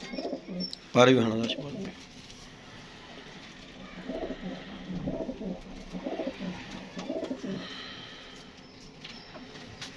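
Blue pigeons coo in low, soft repeated phrases close by, with a brief louder burst early on and someone talking over them.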